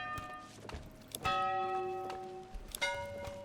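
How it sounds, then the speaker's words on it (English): Village bell in the medieval city-building game Manor Lords, struck three times with ringing metallic tones that linger between strikes, alongside soft thuds and footstep-like game sounds. "Yeah, you can actually change the bell, by the way."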